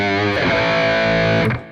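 A guitar played through a Neural DSP Quad Cortex hybrid scene combining distortion, modulation and reverb rings out a loud, sustained distorted chord that shifts once before fading into a brief reverb tail.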